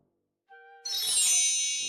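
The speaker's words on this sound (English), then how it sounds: "Pete rings the doorbell." A doorbell chimes at a house door on Halloween, a clear bright ring that begins softly and then swells into a sustained shimmering tone lasting about a second and a half.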